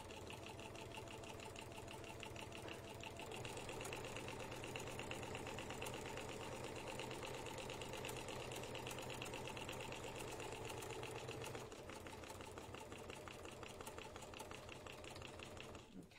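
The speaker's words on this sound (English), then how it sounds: "And I'm just going to start stitching." A sewing machine stitches steadily with a circular embroidery attachment, giving a fast, even mechanical chatter with a rapid rhythmic motor hum. It stays constant throughout at a fairly quiet level, with a slight change in pace partway through.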